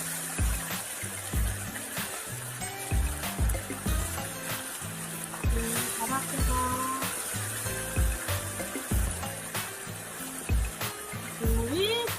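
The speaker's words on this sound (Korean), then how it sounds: "올려주실 때까지 보글보글 끓는군요" Braised potatoes with tuna bubbling and simmering in a pot, a steady low wet burble with occasional clinks of utensils against the pot, close and fairly loud with no talking.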